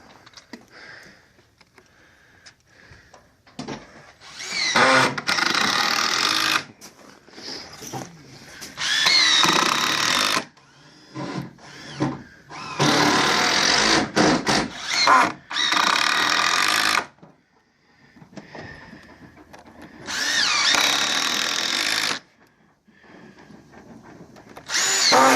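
A power drill drives 3.5-inch screws into 2x6 deck boards in repeated loud bursts of several seconds, separated by short pauses.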